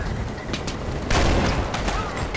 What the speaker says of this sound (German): Ich schieße immer gegen den Berg.